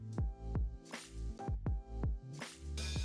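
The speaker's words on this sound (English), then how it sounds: "Now grind everything through once, the liver, the grits," A meat grinder forcing liver, grits and cooked meat through for Knipp, giving a run of wet squelching pushes and drips in an uneven rhythm, close and loud, with no talking.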